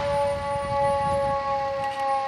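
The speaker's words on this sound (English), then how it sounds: "the sirens are in fine voice this morning" Fire engine sirens wail in a Memorial Day parade in Royal Oak, Michigan, a sustained steady tone with a slight warble, loud and continuous over low crowd and street rumble.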